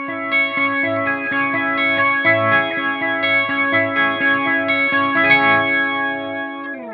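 An electric guitar through a Boss MO-2 Multi-Overtone pedal on setting 1 rings out bright, shimmering clean chords with a chorus-like, chimey effect and soft echo, played alone at moderate volume.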